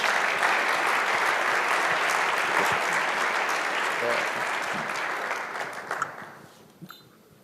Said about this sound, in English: Will you give him a big round of applause?